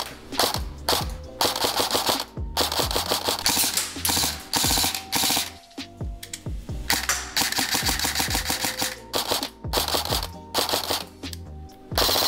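A Modify XTC airsoft gun fires in rapid, mechanical bursts during a shooting test, producing dense strings of sharp clicking shots close up with only brief pauses between volleys.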